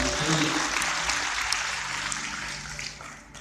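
Church congregation applauding during a pre-Christmas and anniversary worship service, a broad wash of clapping that starts strong and slowly fades, with some voices mixed in.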